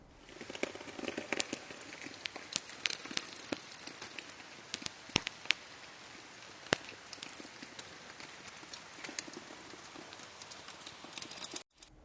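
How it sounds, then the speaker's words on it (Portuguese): Rain falling in Barra de São Francisco, Espírito Santo, heard as a steady patter of drops on a hard surface with scattered louder individual hits, fairly close and continuous. "Choveu também no Espírito Santo, aliás, um dia abençoado por lá"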